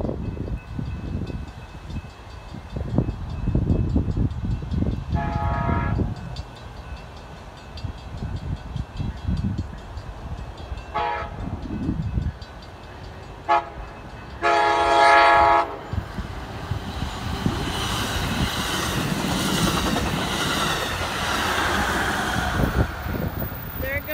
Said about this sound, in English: here comes Amtrak 736 to its final destination of Auburn